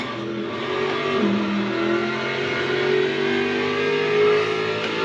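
Race car engine in the Le Mans Ultimate sim racing game, a GT3 car on a cold-tire lap, droning loud and steady with rising and falling revs under throttle, alone throughout.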